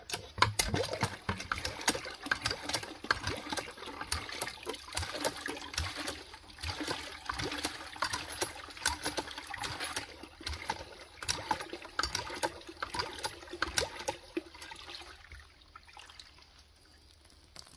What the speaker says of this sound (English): No problem with volume. It's got plenty of water coming.